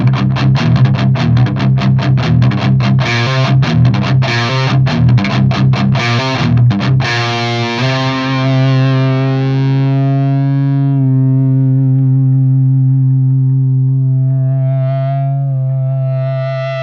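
A high-gain, heavily distorted electric guitar pounds out fast, tight chugging riffs. It then lets a big chord ring on into sustained, droning feedback, loud and alone with no talking.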